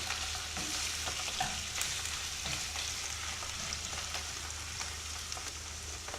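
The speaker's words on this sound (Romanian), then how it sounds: "Amestecăm și mai lăsăm un minut. Mai amestecăm din când în când." Strips of pork and mushrooms fry in a pan while being stirred, a dense steady sizzle with frequent small scraping clicks from the spoon, close and even throughout.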